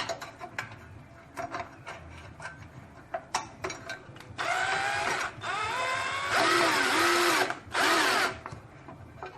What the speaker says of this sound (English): You'll need one of these power drills because that bolt is so long.